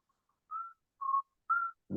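A person whistles a short tune of three clear sustained notes with brief gaps between them, followed by a burst of noise at the end.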